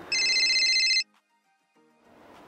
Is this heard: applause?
no